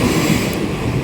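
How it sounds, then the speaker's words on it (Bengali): A train pulls into a station with a loud, steady rumble and rolling wagon noise close by. "ট্রেন ঢুকে গেল"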